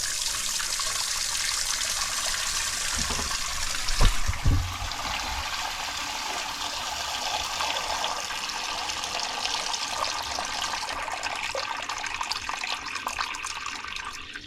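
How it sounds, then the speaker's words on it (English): Water running steadily from a Dutch barge's water tank as it drains and refills, a constant rushing flow with a brief splashy burst partway through. "Just drain the water out of the tank. It's nearly empty anyway, and then refill."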